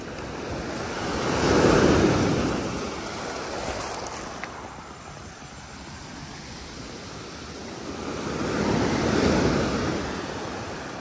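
Sea surf washes onto an open beach at high tide in two broad swells, each wave building to a loud rush and then receding, with wind and a steady wash between the breaks.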